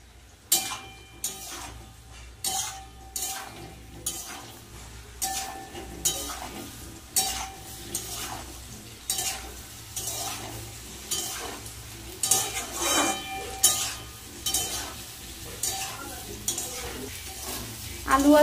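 Soya chunks and potatoes frying in a pan, with a soft steady sizzle broken by regular close scraping strokes of a spoon against the pan.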